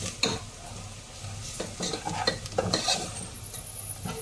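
Noodles fry in a little oil while a utensil stirs and scrapes the pan, with a soft sizzle running under the irregular clatter close by.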